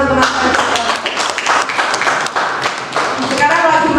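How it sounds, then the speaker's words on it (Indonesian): Classmates applaud during a classroom lesson, a dense burst of clapping lasting throughout, close and fairly loud, with voices mixed in. "Iya, tepuk tangan teman-teman."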